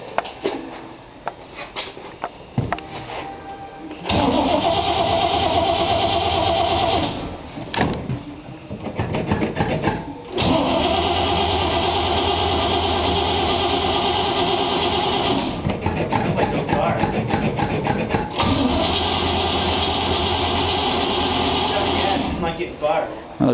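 A 1938 Ford engine cranks repeatedly without firing, loud rhythmic churning in several long bursts with short pauses between, close by, with someone talking at the start.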